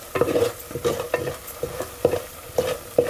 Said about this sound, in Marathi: मसाला आपल्याला त्यामध्ये परतून घ्यायचा आहे